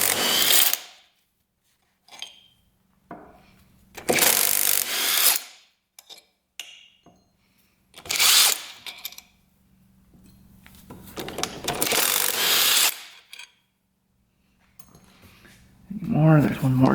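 Bursts of ratcheting as a wrench loosens bolts on an ATV gear housing, several separate runs of clicking with short pauses between them, close by, with someone speaking in between.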